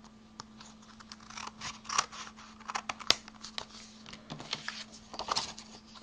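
Scissors snipping through paper card for a handmade vintage card, a quick series of soft close crunching cuts over a faint steady hum, no talk.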